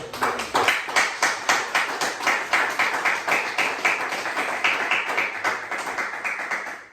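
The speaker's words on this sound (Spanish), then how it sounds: "Denle un fuerte aplauso." A church congregation breaks into applause, a dense and steady patter of many hands clapping in a rhythmic pulse, moderately loud and sustained before tapering off at the end, with no voices over it.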